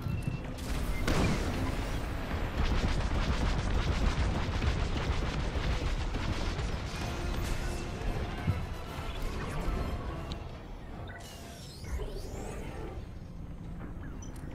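Heavy turret fire during a Star Wars: Squadrons fleet battle, a continuous roar of booming blasts and impacts that thins out toward the end, with no talking over it.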